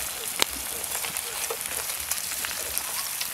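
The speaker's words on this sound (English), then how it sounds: "now we're gonna mix our potatoes in with our bacon real good." Potatoes and bacon are stirred together in a Dutch oven at an outdoor bushcraft cook. A soft, steady sizzle and crackle is broken by scattered sharp clicks and scrapes, close up and fairly quiet.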